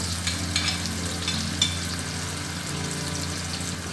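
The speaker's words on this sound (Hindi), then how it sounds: "इसको हल्का सा फ्राई करेंगे।" Steady sizzling of garlic and ginger frying in a hot pan, with soft crackles and occasional pops over a low hum, close and continuous.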